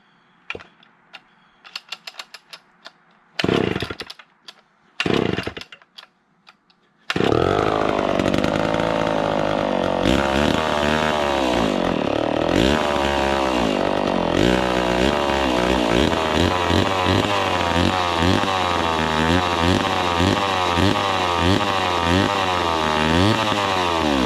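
A vintage muscle saw is pulled several times in short bursts, then the chainsaw fires and runs steadily at a loud, close roar, its revs rising and falling as the engine bogs, with no speech.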